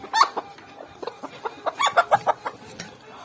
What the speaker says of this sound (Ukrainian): Бачимо дві курочки, а ну пройдись.